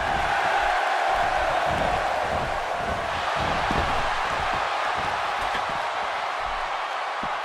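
Steady roar of a video game wrestling arena crowd in WWE 2K16 during a no disqualification match, loud and continuous with swelling cheers throughout.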